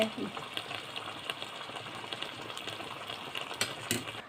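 Onions frying in oil for biryani, a soft continuous sizzle with occasional crackles and stirring clicks, faint and steady throughout.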